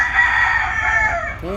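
A Silkie rooster crows loudly and close by, one long drawn-out call, followed by a short clucking note at the end.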